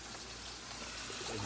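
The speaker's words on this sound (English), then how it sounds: "I'm also going to add hot water, right? So at least a cup of hot water," Steady hissing rush of hot water being poured into a pot for ramen soup, continuous and fairly loud, with no voices.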